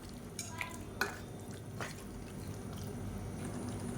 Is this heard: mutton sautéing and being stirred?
yes